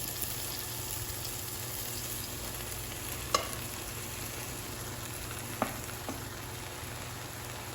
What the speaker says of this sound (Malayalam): കുറേശ്ശെയായിട്ട് ചേർത്തിട്ട് നന്നായിട്ടൊന്ന് ഇളക്കി കൊടുക്കാം.